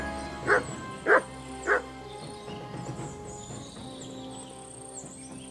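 A dog in Kingdom Come: Deliverance II gives three sharp, loud barks spaced about half a second apart, then falls quiet over a low steady background hum.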